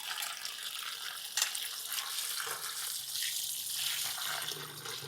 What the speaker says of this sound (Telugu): వాష్ చేసేసుకుంటున్నాను అటుకులు